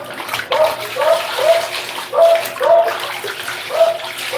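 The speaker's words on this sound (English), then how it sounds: "it's time to use the water now." Water pours steadily into a tub for washing clothes, a loud close splashing flow with rhythmic surges and gurgles, and no talk over it.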